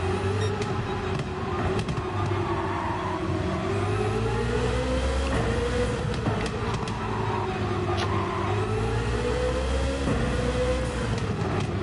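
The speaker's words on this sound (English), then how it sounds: "I'm spinning the tires up in fifth gear" A roughly 1,000-horsepower car in Gran Turismo 7 with its engine revving hard and tires spinning in fifth gear, giving a loud, steady, close drone whose pitch rises and falls in waves.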